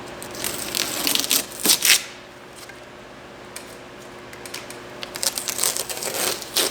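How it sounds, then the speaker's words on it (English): Masking tape is pulled off a 2018 Chevrolet Traverse after scratch repair and crumpled. Sharp crinkling and crackling come in bursts near the start and end, with a quieter lull between, close by. "Here's the point where we pull all our tape off."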